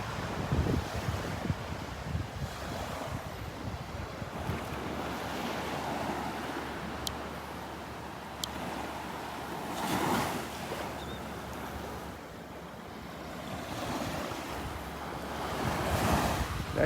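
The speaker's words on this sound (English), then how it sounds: "Little breeze blowing." A light breeze blows across Vanderbilt Beach on a morning walk, with steady wind rush and buffeting on the microphone over the continuous wash of surf.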